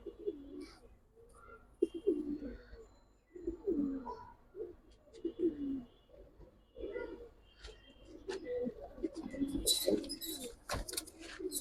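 Silver Giribaz pigeons cooing at close range, repeated soft throaty coos in irregular bursts with occasional wing flutters and faint background noise.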